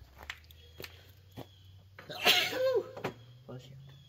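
A single sharp sneeze bursts out amid quiet handling noises and light tapping, close to the microphone.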